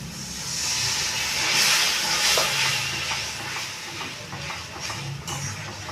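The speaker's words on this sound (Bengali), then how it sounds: "অল্প একটু জল দিয়ে ভালো করে কষে নেব।" Onion paste sautéed in a pan after a splash of water, giving a strong steamy hiss and sizzle with light stirring, swelling and then settling over several seconds.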